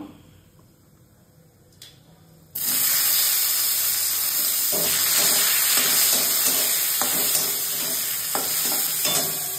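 Chopped tomatoes land in hot oil already holding cumin, cardamom and bay leaf, setting off a sudden loud sizzle after a quieter start, followed by steady frying hiss and stirring scrapes, close by.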